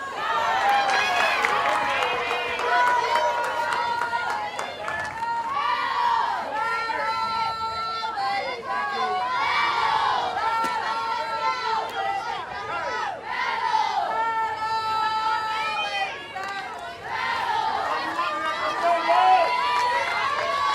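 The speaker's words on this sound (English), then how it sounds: "Dugout cheering on Lindy Ray Davis." Softball players in the dugout chant and cheer loudly for a teammate at bat during an NCAA game, Wisconsin against Georgia. Several voices keep up a sustained, rhythmic rising-and-falling chant with crowd noise behind it for the whole stretch.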